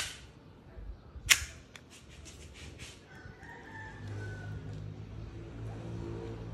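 A single sharp, snappy shot rings out from a WE G17 airsoft pistol firing 0.25 gram JER BBs, while a rooster crows and clucks faintly in the outdoor background.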